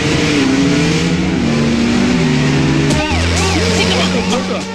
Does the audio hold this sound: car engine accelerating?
yes